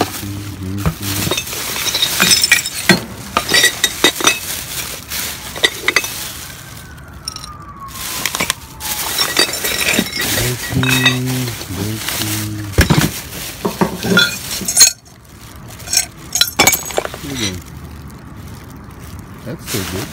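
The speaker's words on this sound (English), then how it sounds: "Gotta wash your dishes." Dishes being washed at a sink, glass and cutlery clinking and clattering with splashing water, busy and close throughout, with a voice talking over parts of it.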